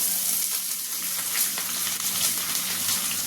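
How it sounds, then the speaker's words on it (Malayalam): A medium sliced onion drops into hot oil where garlic has already browned, for a tomato kurma, setting off a loud, dense, continuous hiss of frying close up with no voices. "അതിലേക്ക് ഞാൻ ഒരു മീഡിയം സവാളയാണ് എടുത്തിരിക്കുന്നത് അത് ഇട്ട് കൊടുക്കാം"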